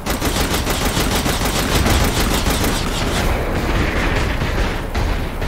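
Continuous loud automatic gunfire from the video game Saints Row: The Third, dense rapid bursts with booming impacts filling the whole stretch without pause.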